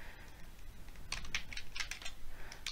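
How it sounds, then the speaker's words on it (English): Keystrokes on a computer keyboard while typing component names in Power Apps, a quiet irregular patter of clicks in short bursts close to the microphone. "I can type"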